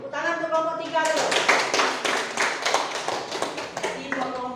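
A group claps for group 3 during a classroom teaching-practice session; a dense burst of hand-clapping runs through the middle, with a spoken voice before and after it.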